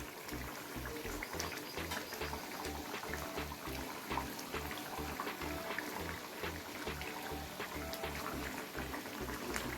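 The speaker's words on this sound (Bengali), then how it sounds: "এবারে আমি ঝোলের মধ্যে দিয়ে দেবো ভেজে রাখা মাছগুলো।" Fried tangra fish going into a simmering mustard-oil curry and being stirred: a quiet, steady bubbling and watery burble with soft rhythmic low thumps, faint and close throughout.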